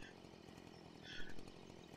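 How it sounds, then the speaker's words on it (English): A chainsaw from Farming Simulator 2013 runs faintly at a steady drone, rising briefly in a short louder burst partway through. "You can hear my chainsaw running."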